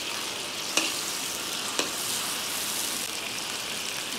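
Tomatoes fry in a pan for pasta, giving a steady close broadband sizzle with two sharp utensil clicks as they are stirred. No one speaks.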